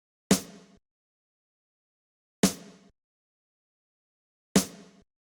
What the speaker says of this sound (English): Next, I have this snare from Shadow's Valentine kit.